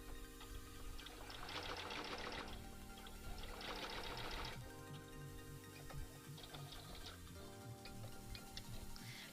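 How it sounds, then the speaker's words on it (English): A sewing machine runs back stitches along a corset seam in close, loud bursts of rapid mechanical ticking, pausing and restarting in several runs over a constant hum. "So I'm back stitching to make sure that I've locked in my last stitches."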